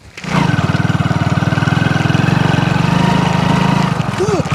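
Motorbike engine running steadily and loud nearby, a continuous throbbing drone that starts abruptly and holds for several seconds, with a short rising squeal near the end.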